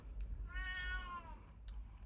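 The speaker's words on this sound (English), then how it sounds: "get confused as to why the cat's being so bossy now that I'm filming" A cat meows once at close range, a single drawn-out rising-then-falling cry heard quietly over low room hum during a knitting session.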